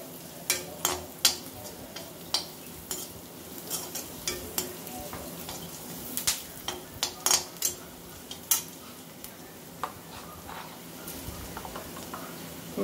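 Dry coriander, carom seeds (ajwain) and spices roast in a pan: a metal spoon scrapes and clinks in an irregular stirring rhythm over a faint continuous sizzle, close up, with no talking.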